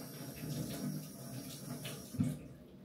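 Tap water running over sliced beef as it is rinsed in a kitchen sink, a soft, faint splashing stream with a brief louder splash near the end.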